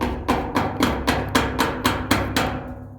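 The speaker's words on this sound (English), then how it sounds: "I just use a chisel and the hammer." Hammer taps on a blunt chisel, driving a tank O-ring under the lips of a scuba tank: about ten sharp metallic strikes at a steady rhythm, close and loud with no talk.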